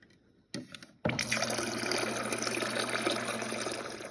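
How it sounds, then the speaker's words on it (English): Very cold water pours into a bowl of ice, a brief splash and then a steady, close filling rush that holds for several seconds. "we are going to put ice and water, very cold water in a bowl"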